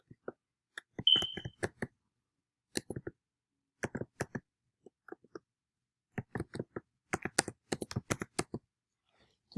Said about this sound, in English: I am typing the name